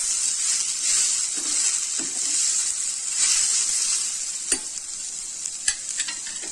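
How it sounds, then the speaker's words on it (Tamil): Onions sautéing in a pan for ragi roti make a constant crackling sizzle, with a spatula stirring and scraping, plus a few sharp knocks toward the end, close-up and without speech. "வெங்காயம் நல்லா வதங்கிருச்சு பாருங்க"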